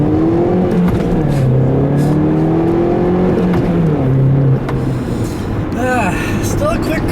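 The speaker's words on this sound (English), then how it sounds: "I'll leave you guys with a nice little acceleration here" A Mini car accelerates hard, its engine note loud and close as it climbs through the revs and shifts, then eases off toward the end.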